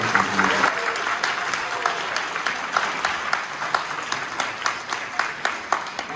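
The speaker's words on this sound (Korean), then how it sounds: "모두에게 박수로 감사드립니다" A church congregation applauds steadily, a dense wash of many hands clapping with a few sharper individual claps standing out near the end, fairly loud and close, with a brief voice at the very start.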